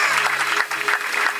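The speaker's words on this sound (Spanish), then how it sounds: "Le da un aplauso al Señor en esta tarde." A church congregation applauds together in a sustained, dense wave of clapping with crowd murmur mixed in, filling the short stretch at steady loudness.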